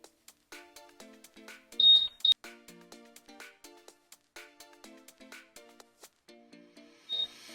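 A few short electronic beeps from a Honda PCX scooter's locator, a quick pair and one later, ring out over a run of rhythmic clicking and tapping.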